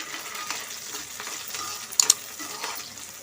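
Green chillies fry with onions in hot oil for an Andhra-style fish curry. A steady close hiss and sizzle runs throughout, broken by a couple of sharp pops and crackles partway through.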